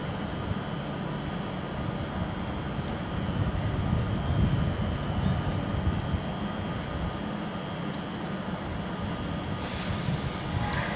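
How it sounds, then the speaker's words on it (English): Avanti West Coast Class 390 electric train pulling out of Stafford station, a steady rolling rumble and hum of wheels and traction building gently, heard from the platform with no talking. "I think 390-152 is getting ready to depart as well with the 1924 Avanti West Coast service to London Euston."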